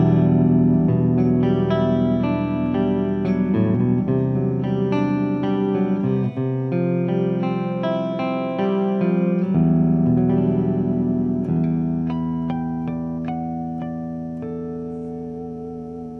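A Framus Wolf Hoffmann WH-1 electric guitar on its middle pickup picks out clean arpeggiated chords with a slightly brighter, glassy tone, notes sustaining into each other, played solo and gradually decaying.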